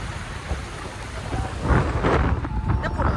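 Strong, gusty wind buffets the microphone beside a large body of water in Pandharpur, a steady roaring rumble that swells louder partway through with no talk over it.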